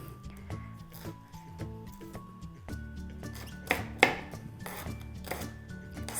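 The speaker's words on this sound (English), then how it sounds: "you can just slice them in half and then slice them in thin slices" A kitchen knife slicing raw Brussels sprouts into thin slices on a cutting board, a run of crisp, fairly quiet chopping taps at an uneven rhythm, with soft background music and no speech.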